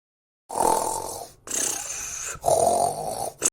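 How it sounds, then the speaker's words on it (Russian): A girl's heavy snoring in a cartoon scene: three long, rasping snores with short gaps between, loud and close after a moment of silence. "Я сонная, потому что из-за тебя храпа не уснуть."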